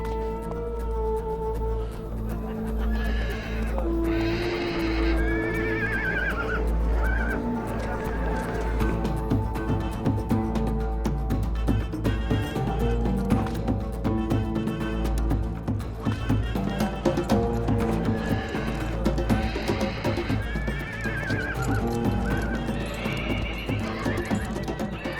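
Kyrgyz horses of Central Asia, ridden by horsemen known for equestrian jousting, whinny repeatedly while their hooves clip-clop in a steady, close rhythm, with a voice narrating over the herd at times.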